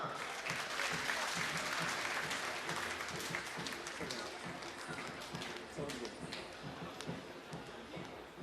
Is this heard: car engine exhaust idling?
no